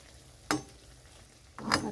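Dahi vada lentil fritters fry in oil over a low gas flame with a faint, quiet sizzle, punctuated by two sharp clinks of a utensil against the pan.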